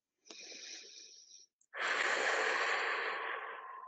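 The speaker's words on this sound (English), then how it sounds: "One more breath here." A deep breath taken during a shoulder release exercise: a short inhale, a brief pause, then a long, loud, breathy exhale lasting about two seconds, close to the mic with no talk.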